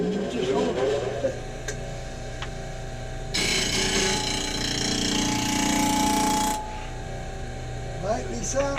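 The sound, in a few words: sanding the sides of wood segments on a sanding sled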